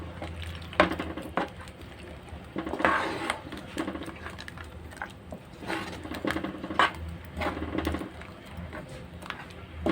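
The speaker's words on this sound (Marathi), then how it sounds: "चला मग आता आपण त्यामध्ये वाटण घालूया. आणि चांगलं ढवळून घेऊया." Ground masala paste is stirred in a cooking pan for Malvani chicken masala, giving soft, irregular scraping and light clinking that stays faint and steady throughout.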